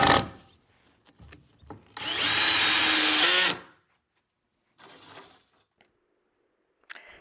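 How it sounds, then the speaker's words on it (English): A power drill drives screws into 2x4 boards of an outdoor farmhouse bench, giving one loud, steady whir of about a second and a half with quieter clatter of handling and tools before and after. "drive our screws into place."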